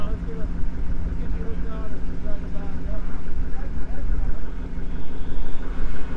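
A truck engine labors on a muddy hill with its tires losing grip, a steady low rumble that swells at times, with people talking over it.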